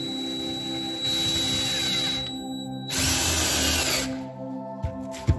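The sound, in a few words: Parkside PABS 20 Li E6 cordless drill drilling through wood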